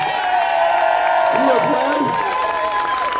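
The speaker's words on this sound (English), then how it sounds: "Let's give our young people a round of applause" Crowd at a March For Our Lives rally applauding and cheering the young people, a steady loud wash of clapping with whoops and shouts rising through the middle and a sustained vocal tone across the top.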